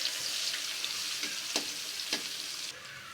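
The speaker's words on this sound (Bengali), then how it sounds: "এখানে আমি তেলের ওপরে পেঁয়াজ দিয়ে দেব, দিয়ে পেঁয়াজগুলা হালকা করে একটু ভেজে নেব।" Onions frying in oil in a pan, a steady close sizzle with a few sharp crackles and stirring scrapes, no voices.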